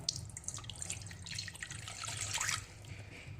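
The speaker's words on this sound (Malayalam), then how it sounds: "ഇതിലേക്ക് ഒന്നര ഗ്ലാസ് അളവിൽ വെള്ളം ഒഴിച്ചു കൊടുക്കാം" Water pours into a vessel as a home hair-dye remedy is prepared, a steady splashing gush that swells before stopping abruptly near the end, close and fairly quiet, with no talk.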